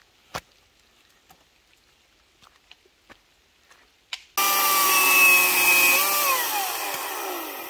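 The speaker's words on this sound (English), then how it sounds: "This is why we carry a chainsaw, because we've come across a branch of a tree" A chainsaw starts and runs loud and steady close by, cutting through a fallen tree branch blocking a rural road; the engine note rises and falls under load, after a few quiet taps and knocks.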